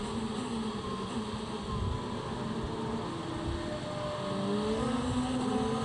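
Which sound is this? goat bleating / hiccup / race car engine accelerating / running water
race car engine accelerating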